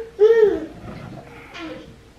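A toddler babbles and fusses in a home kitchen at breakfast time, with a loud, rising whine followed by a softer second vocal burst a moment later.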